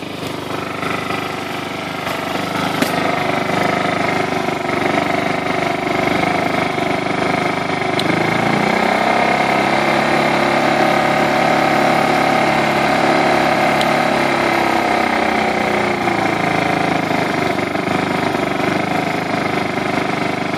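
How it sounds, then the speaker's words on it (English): An outdoor portable generator chugs at a steady idle, a continuous mid-pitched engine rattle that shifts slightly in tone partway through, running on alone with no voices. "I set up my generator."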